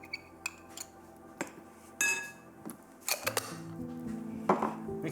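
Salami and chorizo mince is mixed with Mediterranean pesto in a bowl, with scattered clinks and scrapes of a utensil against the dish, some sharp knocks among quieter stirring sounds, and no speech.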